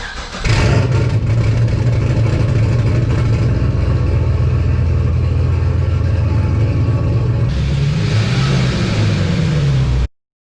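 An LS-swapped Nissan 300ZX Z32 starts and runs with a loud, deep V8 engine rumble, close by and continuous, rising briefly near the end before cutting off abruptly.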